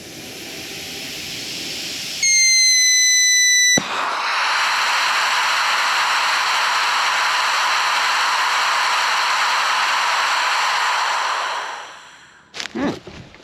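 Compressed air blasts loudly out of a pressurized cap during a stress test, a steady roaring hiss with a brief whistling tone before the cap pops off, then the rush cuts out into a few clattering knocks.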